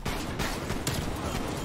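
Gunshots from a first-person video game shooter fired at point-blank range: a couple of sharp cracks stand out over a steady, dense layer of game noise and distant gunfire throughout.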